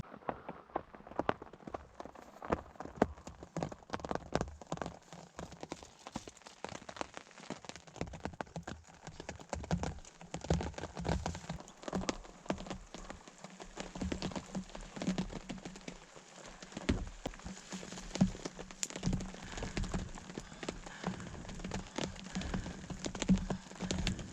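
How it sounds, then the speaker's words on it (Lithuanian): Rain taps and patters irregularly on a surface close by in a forest in Lithuania, steady droplet impacts throughout with no voices. "Ištisai lyja."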